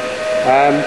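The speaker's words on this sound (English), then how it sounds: "so they've got the steam whistle in the background." A steam engine's whistle gives one short, bright blast, its clear tones swelling briefly over a hissy background before cutting off.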